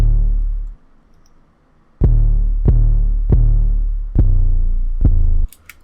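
Deep 808 bass from a trap drum kit: a long sustained low tone fades out, then after a pause five booming hits land in a simple, uneven pattern, each with a bright attack and a rumbling tail.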